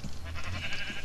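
A sheep bleats in Minecraft, a short, nasal, wavering call heard close and clear over a low steady background.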